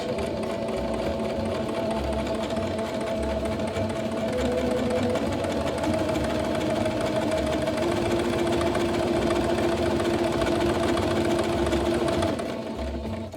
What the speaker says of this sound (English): Make sure everything's lined up, and then sew along the edge.